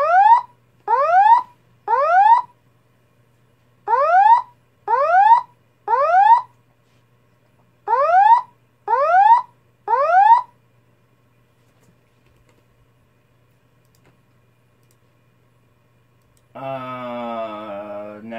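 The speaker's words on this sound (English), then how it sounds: "Start off with the notifier temporal whoop tone." A Gentex SPKE4-15/75WR fire alarm speaker plays a Notifier temporal whoop tone: three groups of three rising whoop sweeps in a loud, steady pattern, then a pause before a different tone starts at the end.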